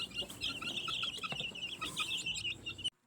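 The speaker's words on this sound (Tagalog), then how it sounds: "Itong mga sisiw sa isang brooder naman ay nilalagay pa namin ito sa kahon magdamag." Two-week-old chicks in a brooder box peeping continuously, a dense chorus of high, close chirps that stops abruptly near the end.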